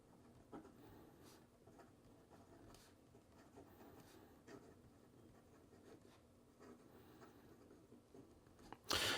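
Pilot Metal Falcon fountain pen with a soft nib writing on paper, a faint, steady scratchy rubbing of nib strokes with brief pauses between letters, close up and alone, ending in a louder rustle.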